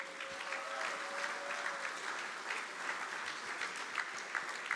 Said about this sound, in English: So a big round of applause for the first silver medal,